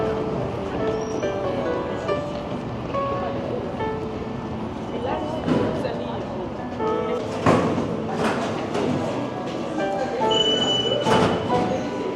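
Inside an underground Paris Metro station, a steady rumbling hum fills the space. Metallic squeals and clanks of train wheels rise and fade, and indistinct voices murmur in the echoing hall.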